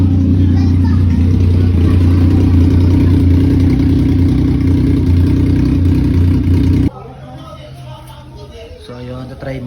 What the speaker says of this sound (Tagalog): nakarinig ko na yung motor